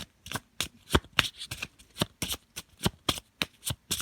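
Tarot cards are shuffled and drawn close up, with quick, crisp riffling and flicking bursts in an irregular rhythm, heard alone without talk.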